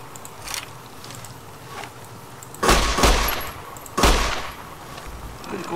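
Bursts of gunfire in the video game Fallout New Vegas: a couple of faint shots early on, then two loud, close blasts with ringing decay about a second apart, with no one talking.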